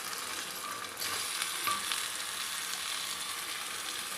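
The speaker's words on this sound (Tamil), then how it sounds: "இப்போ இந்த வெங்காயம் இதில் நாங்கள் வேக வச்சுருக்கிற மட்டனை போட்டு வதக்கி விடலாம்." Cooked mutton stirred and fried with onions in a pan for Madurai mutton chukka, a steady close sizzle with scraping stirs, continuous and even with no talking.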